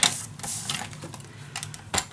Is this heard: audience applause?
no